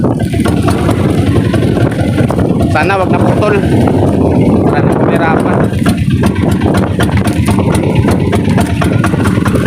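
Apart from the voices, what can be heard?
boat engine running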